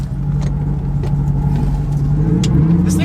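A Volvo with a worn clutch drives around the block. Its engine drones loudly and steadily from inside the cabin, with low mechanical hum and occasional light knocks.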